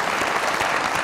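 A studio audience on a Pakistani comedy talk show claps steadily and densely, a loud, even wash of applause with no talk over it.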